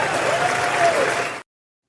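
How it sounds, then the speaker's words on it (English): Thunderous applause from a large audience after a speech condemning anti-Semitism, dense loud clapping with a faint voice mixed in, cut off abruptly after a second and a half. "Thunderous applause there"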